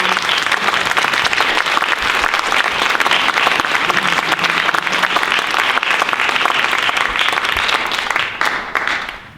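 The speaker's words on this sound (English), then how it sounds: "Let's have another round of applause for all of the" An audience at a regional high-school poetry recitation contest applauds the student reciters, a dense, steady wash of many hands clapping for about nine seconds before tapering off at the end.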